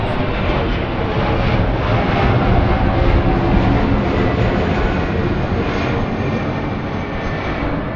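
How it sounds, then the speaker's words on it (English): Jet airliners fly overhead on approach into Amsterdam, heard from a boat on the canals as a loud, steady, broad roar of engines that holds for the full eight seconds with no speech. "Plane after plane after plane arriving in Amsterdam."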